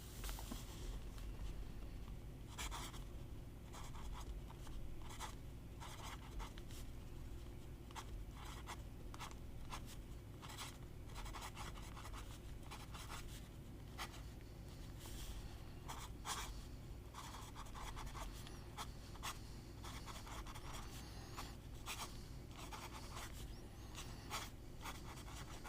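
Soft scratchy fountain pen nib strokes on paper, an irregular stream of quick light scrapes and taps, close and quiet with a faint background hiss.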